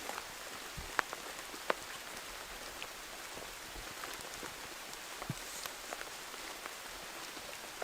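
Rain falls on a tarp in a forest during a bushcraft bivouac, a soft, quiet, steady patter broken by a few sharper, louder drop hits near the start.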